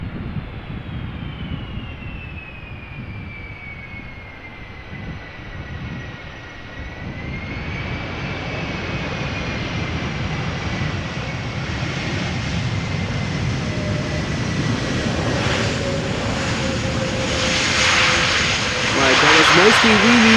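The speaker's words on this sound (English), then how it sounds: "find the handle to apply reverse thrust" An airliner lands at Amsterdam Schiphol Airport with a steady, rising jet-engine roar that builds into a loud reverse-thrust rumble toward the end, heard from a distance as a voice talks throughout.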